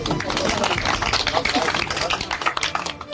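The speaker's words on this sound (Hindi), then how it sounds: "वाह ताली मारिए।" A village crowd at an outdoor political gathering in Khaira block claps together in a steady, dense burst of applause that fills the whole moment, with voices mixed in underneath.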